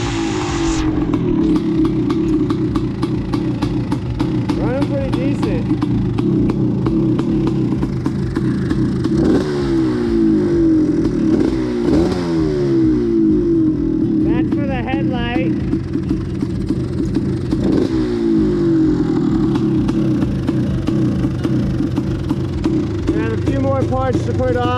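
A 1980s Husqvarna two-stroke motorcycle engine runs steadily throughout, with repeated rev-ups rising and falling over a continuous buzzing idle, loud and close, with a voice talking over it at times.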